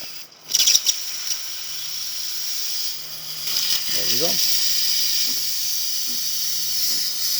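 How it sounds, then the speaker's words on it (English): Steady, loud hissing of a De'Longhi espresso machine's steam wand purging, fitted with a new water pump, fills the clip, with a few low sputters and pulses partway through and a brief spoken remark. "now we're going to be testing the steamer. Let's wait for it to purge itself."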